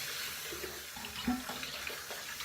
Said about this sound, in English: Pardon me while I get the brush and rinse my fingers off